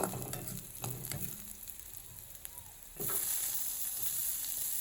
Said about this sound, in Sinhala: දැන් තෙල් ටික රත් වීගෙන එනකොට සිහින්ව ලියාගත් සුදු ලූණු ටික අපි ඒකට එකතු කරගමු.